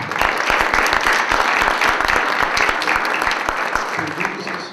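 An audience at a technical talk on audio signal classification with Python claps steadily, with individual hand claps distinct in the mix, tapering off near the end.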